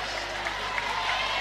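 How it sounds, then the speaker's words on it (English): Baseball stadium crowd at Kentucky Proud Park doing the wave during a Kentucky vs Oregon State NCAA championship game: a broad, steady roar of cheering fills the stretch. "And now they're starting the wave at Kentucky Proud Park."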